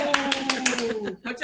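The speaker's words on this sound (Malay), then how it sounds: "Ihsan tepuk tangan kat sini." Group hand clapping in a primary school lesson, a quick run of about a dozen sharp claps in rhythm, briefly pausing before a few more, with a teacher's voice under it.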